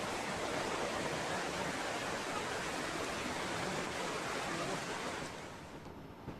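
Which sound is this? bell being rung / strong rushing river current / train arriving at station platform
strong rushing river current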